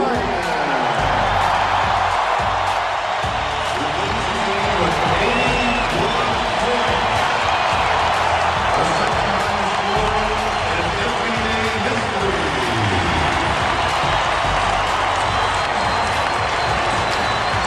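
Basketball arena crowd cheering for Kobe Bryant, a dense, loud, sustained roar of applause and whoops filling the whole stretch, with faint speech buried beneath.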